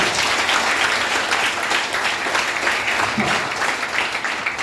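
An audience at a motivational class in a women's degree college in Jagtial gives teachers a loud, sustained round of applause, with dense clapping filling the whole stretch.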